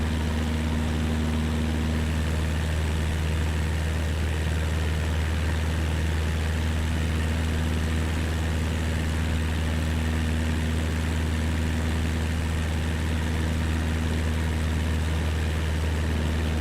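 Steady low drone of an airplane engine in a flight simulator, a constant hum with tonal bands and no variation, alone without talk.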